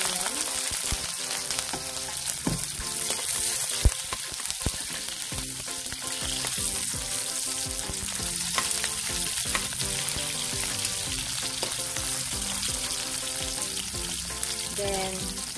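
Garlic and onion sautéing in a pan for pansit bihon give a loud, continuous sizzle with crackles and some stirring clatter, steady and close.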